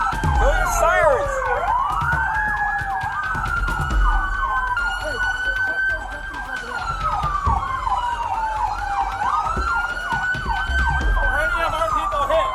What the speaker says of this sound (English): Go your sirens!